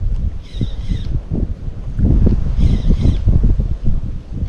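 Gusty wind buffets the microphone outdoors during casting with an Azura Sawada Light 76LS spinning rod and an 8-gram lure, a rough, low rumbling roar rising and falling, with faint bird squawks in the background.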